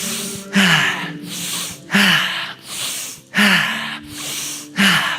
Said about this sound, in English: Let us breathe.